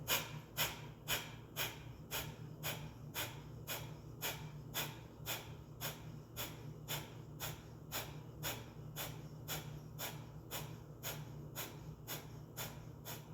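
Rapid pumping breaths in a breathing exercise, a fast, even run of sharp puffs of air, roughly two per second, continuing close and steady with no talk.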